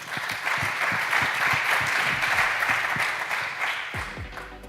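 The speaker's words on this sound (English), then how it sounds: "Please, big applause." An audience at an innovation award ceremony applauds a gold-label winner, with steady, moderately loud clapping that thins toward the end, plus a few low thumps near the microphone.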